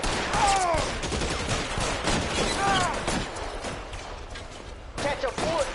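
Rapid fusillade of gunfire in a 1940s Los Angeles shootout in L.A. Noire, sharp crackling shots and ricochet whines layered over shouted voices, dense and loud throughout with a fresh burst near the end.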